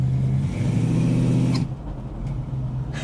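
A 1967 Ford Mustang Fastback V8 with 271 brake horsepower revs hard and close, its deep engine roar holding for about a second and a half before dropping to a lower idle-like rumble.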